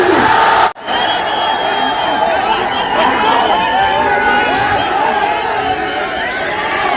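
A huge crowd at a political rally at Roshan Gate answers a Naara-e-Takbeer slogan with a loud, sustained massed chant and cheering. The roar follows a brief cut near the start and carries on unbroken.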